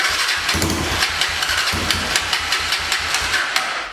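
A Honda TRX300EX four-wheeler engine with a badly leaking carburetor fires and chugs unevenly, loud and close, with repeated pulsing bursts and no talk over it.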